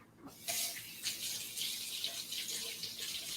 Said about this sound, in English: I'm just gonna rinse my hand a little bit.